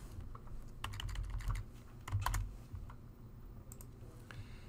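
Keys clatter on a computer keyboard in irregular bursts of close clicks, some quick runs and a few louder strokes, while an input mapping is set up in Unreal Engine 5. No voices are heard.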